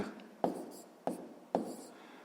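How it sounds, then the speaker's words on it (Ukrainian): A fraction answer is written down by hand during a sixth-grade math exercise: a close, soft pen or chalk scratching, with three sharp strokes marking the start of each short burst. "давайте запишемо, що в нас вийде"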